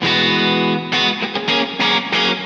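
Distorted Fender Jaguar electric guitar with its high-pass switch engaged, giving a bright, trebly edge: a sustained chord, then several short choppy strummed stabs, loud and close.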